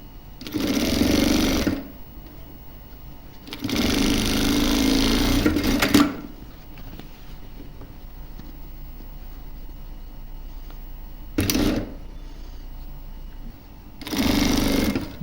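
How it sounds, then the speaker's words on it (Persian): Sewing machine stitching along both sides of a piece of fabric, running in four separate loud bursts of steady motor whir, the first two about two seconds long, a brief one later and another at the end, with quiet pauses between. "برای شروع کردن یه پایه اول دو طرف کار دوخت میگیریم."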